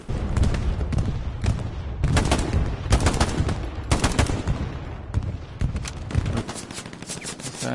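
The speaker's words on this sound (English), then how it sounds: "This guy's shooting down south" Dense, continuous gunfire in the war game Hell Let Loose on PS5, with machine-gun bursts and heavy booming shots layered over one another without a break.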